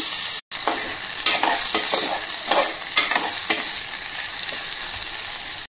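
Spices fry in a pan as a base for amaranth-leaf thotakura curry, a continuous loud sizzle broken by repeated scraping strokes of a spoon stirring through the pan.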